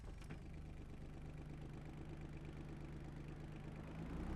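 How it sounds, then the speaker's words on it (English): A small tractor engine idles in Farming Simulator 22, a low, steady mechanical hum that holds even and faint throughout, swelling slightly at the very end, with no voices. "We have, of course, little solid tractor,"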